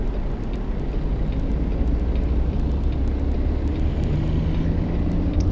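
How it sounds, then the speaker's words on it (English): Steady road traffic noise on a drive from Yuma to Kingman, Arizona: a continuous loud roar and rumble of passing vehicles, with faint intermittent ticking above it and no voices. "The traffic noise alone kills me"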